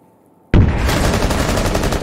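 Gunfire in the video game Rainbow Six Siege erupts suddenly after a quiet moment, a loud, dense burst of rapid shots that continues without a break.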